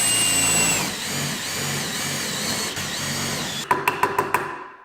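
A power drill whines steadily while boring holes for a custom dragster glove box, its pitch shifting under load, then ends with several sharp knocks at a quick, even pace.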